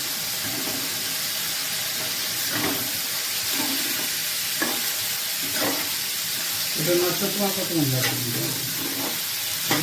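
Fried rice is stirred slowly in a frying pan: a constant steamy sizzle with periodic scraping strokes of a spatula, fairly close, and a faint voice murmuring at times.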